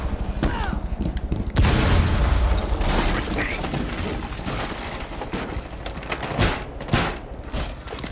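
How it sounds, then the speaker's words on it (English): Gunfire and heavy impacts in Rainbow Six Siege on the Border map, a loud sustained burst of shots and booms followed by scattered thuds and sharper cracks, with a player's voice talking over parts of it. "Shots coming in from over there."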